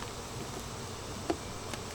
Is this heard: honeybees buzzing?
yes